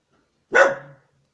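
A single short dog bark, close and loud, rising sharply and trailing off quickly against a silent background.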